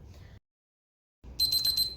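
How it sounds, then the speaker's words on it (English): A cooking timer alarm goes off as a roast reaches 160 Fahrenheit, giving a rapid run of bright, repeated electronic beeps that start after a short silence, over low background noise. "we got this timer now sounding off that it is reached temperature"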